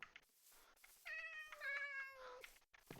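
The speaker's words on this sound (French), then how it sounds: "C'est tes chats à toi?" Cats in the Minecraft video game meow, with several drawn-out whiny mews overlapping one another at close range, clear and unaccompanied by talk.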